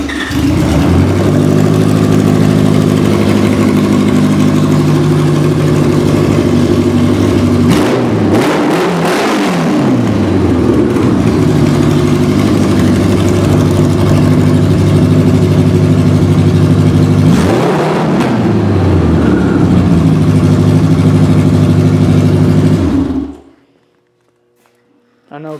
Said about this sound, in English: So let me start it up here so you can hear it.